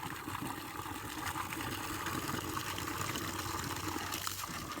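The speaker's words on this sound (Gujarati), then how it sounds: "તો તમે જુઓ પાણી ચાલુ કરી દીધું, ફૂલ પાણી" Water pours at full flow to water plants, a steady, even rush that stays constant and fairly quiet throughout with no voices.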